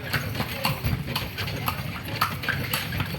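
Hooves of a ridden horse clip-clop in a steady, close rhythm on a hard surface, with a low background rumble and no talk.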